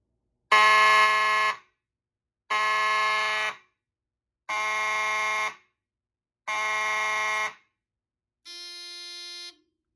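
A loud fire alarm from a Simplex 4001 panel, triggered by a smoke detector test, sounds in four long, evenly spaced blasts, each about a second long, followed by a shorter, quieter electronic tone.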